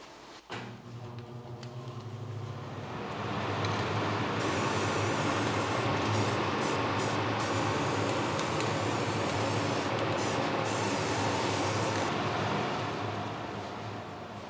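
A final coat of spray paint goes onto a model plane: a steady, close, broadband aerosol hiss starts after a couple of seconds and holds loud and even for about twelve seconds, with no talking.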